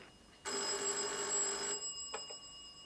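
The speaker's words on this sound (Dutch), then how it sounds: "telefoon" An old telephone bell rings in a single sustained burst of about a second and a half, bright and close, followed by a couple of brief fainter clicks or rings, with no talking over it.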